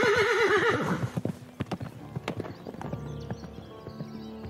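A horse clip-clops with a steady run of sharp hoof strikes, opening with a loud wavering whinny, then footfalls continuing alone and close at hand.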